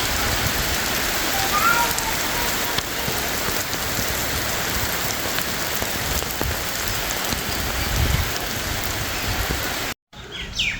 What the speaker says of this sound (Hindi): बारिश खैर से शुरू हो गई है